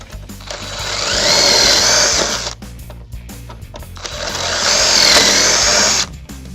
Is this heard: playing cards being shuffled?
no